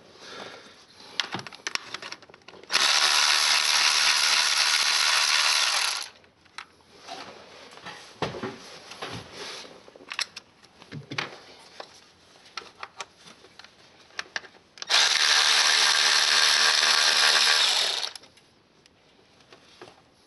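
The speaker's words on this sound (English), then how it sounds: "take off the 2 bolts on the diffuser tube here, 2 bolts on the diffuser tube right here" Bolts come off the diffuser tube of an EcoDiesel engine with a powered ratchet: two loud, sustained whirring bursts of about three seconds each, separated by clinks and tool handling.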